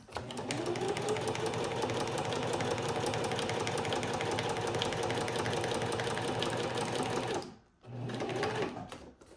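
A sewing machine stitches along a grid line on vellum for a traveler's notebook pocket, a loud, steady mechanical whir that runs continuously, stops briefly, then starts again.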